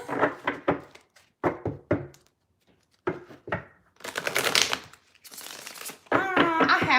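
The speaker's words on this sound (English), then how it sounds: "I can't shuffle at all." Tarot cards being shuffled by hand in short, uneven bursts of riffling and soft thumps, broken by brief pauses, close and fairly loud, with no speech.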